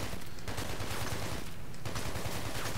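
Rapid continuous gunfire in the video game Hatred, dense rattling shots in a fast, unbroken volley that stays loud throughout.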